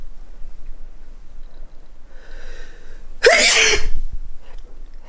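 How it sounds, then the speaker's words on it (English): A single loud, sharp sneeze from a stuffy, allergy-congested person bursts out indoors after a few seconds of quiet sniffly breathing, followed by a brief wheezy tail. "oh my gosh, I'm about to sneeze."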